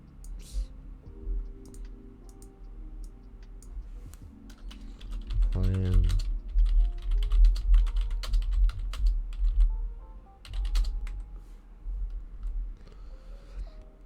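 Typing on a computer keyboard while setting up a video game map editor, quick irregular clicks and clattering keystrokes close by, with bursts of faster typing and brief pauses, plus low background hum.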